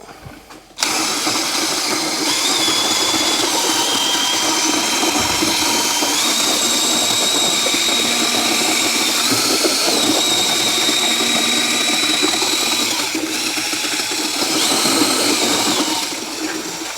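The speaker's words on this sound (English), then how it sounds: "This drill, even on the lowest setting, still too fast." A power drill runs on its lowest setting during a concrete floor repair in a metal shop, starting abruptly and then holding a loud, steady whine with small shifts in pitch for the rest of the stretch, close by and with no voices.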